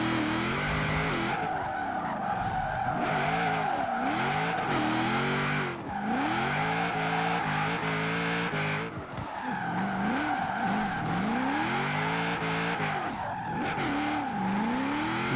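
A 1000-horsepower HVS GTSR drift build in Forza Horizon 4 slides through corners with a continuous loud tire squeal that rises and dips in pitch, alongside steady engine drone and brief gear changes.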